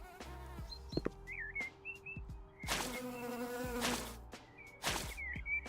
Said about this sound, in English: that's where all the buzzing's coming from